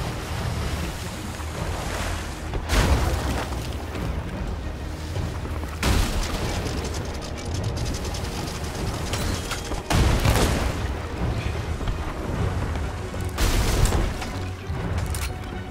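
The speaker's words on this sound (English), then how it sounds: "Cannons." Cannon fire during a ship battle between galleons in a pirate video game at sea: four heavy booms at irregular intervals over constant rushing waves and wind, with no voices.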